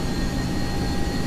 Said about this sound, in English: Listen at that engine, man. Engines, rather.